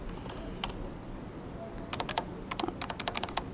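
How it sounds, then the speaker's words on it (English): A computer keyboard is typed on in short quick bursts of crisp clicking keystrokes, close up, after a quiet stretch with a couple of isolated taps. "I can just type in recon"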